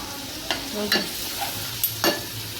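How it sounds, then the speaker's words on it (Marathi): Onion, ginger and garlic frying in a pan for an Agri-style curry, with a steady close sizzle and a few sharp scraping stirs of a spatula across the pan, no one talking. "मस्त कांदा वगैरे शिजवायचा आणि अद्रक लसूण."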